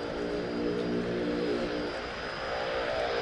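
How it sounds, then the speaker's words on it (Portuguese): A propeller seaplane on the water drones steadily in a broad, buzzing roar at a moderate distance, with no talking. "É um avião na água."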